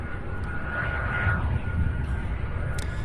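An airliner taking off at Louisville International Airport, a loud, steady jet engine roar with a broad rumble that swells slightly midway and holds throughout, with no talk.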